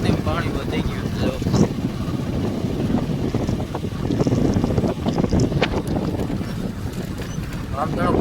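Steady wind rushes across an open microphone beside a river swollen after overnight rain, a constant broadband roar with gusts rising and falling throughout.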